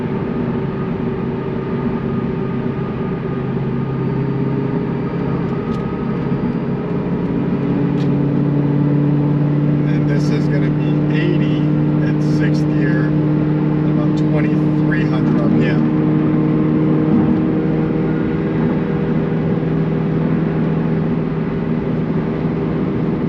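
An 800 hp Cobra cruising at 70 mph in sixth gear around 2,000 rpm produces a steady low engine drone and road rumble inside the cabin, loud and continuous, with some faint higher rattles partway through.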